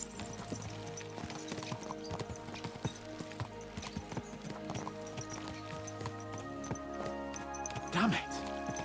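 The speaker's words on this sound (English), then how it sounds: "Let's really spur these horses on, eh?" Horses' hooves clip-clop at a steady riding pace in Kingdom Come: Deliverance II, a rhythmic clatter under background music, with a brief neigh-like burst near the end.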